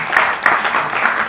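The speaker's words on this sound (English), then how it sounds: "Let's give a clap" Audience clapping at a formal launch event in Nigeria, a brief dense burst of many hands applauding together, loud and steady with no voices over it.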